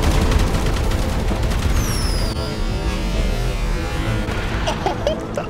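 Missile launcher fire in GTA Online as a jet is targeted: loud, dense bursts of explosive blasts and gunfire-like cracks, with a whooshing projectile streak trailing off and a busy game-battle roar underneath.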